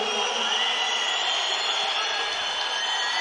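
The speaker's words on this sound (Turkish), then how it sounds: "Ciddi bir tezahürat da var Sefa Köksal'ın." Spectators at a boxing bout between Tohid Esmaeilnezhad and Sefa Köksal cheer for Köksal, a continuous roar of crowd noise with chanting, whistle-like voices riding on top at a steady level.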